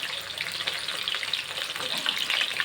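Frozen chicken pieces fry in oil in a frying pan, giving a close, steady crackling sizzle that never lets up for the whole stretch, with no voices.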